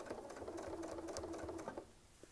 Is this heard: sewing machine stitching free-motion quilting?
yes